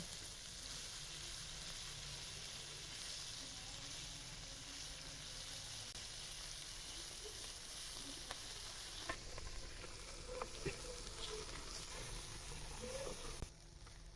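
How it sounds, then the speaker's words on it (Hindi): Mustard greens fry in hot ghee as a tempering with a continuous soft sizzle and hiss, a few small pops and stirring clinks toward the end. "अच्छी तरह से तड़का लगाएंगे इसको।"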